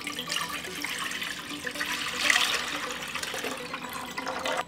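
Hot water that had filled jars is poured back into a cooking pot, a steady close splashing gush lasting several seconds and swelling briefly near the middle, with no talking.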